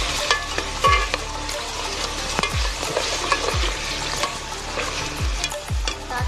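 Ginger garlic paste fries with a steady sizzle, with repeated metallic scrapes and stirring knocks of a spatula in a pan, close and continuous, no talking.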